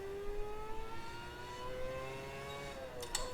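A high-pitched F1 car engine in the racing video game Automobilista 2 whines steadily, its pitch slowly rising and falling, with a brief sharp burst near the end.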